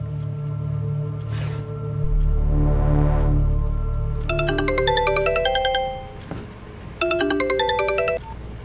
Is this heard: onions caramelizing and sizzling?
no